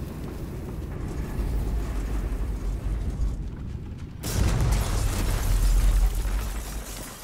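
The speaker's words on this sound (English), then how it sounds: "we're just going to destroy it with the giant bomb" Giant bomb explosion in Baldur's Gate 3: a sustained rumbling, mechanical roar that briefly dips and then surges into a heavier, louder low boom with crackling debris, with no voices.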